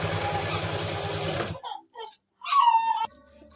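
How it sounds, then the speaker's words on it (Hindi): Domestic sewing machine running a rapid continuous stitch along the elastic edge of palazzo pants for about a second and a half, then stopping, followed by faint handling sounds and brief soft voice. "बिल्कुल इलास्टिक के किनारे किनारे सिलाई लगानी है।"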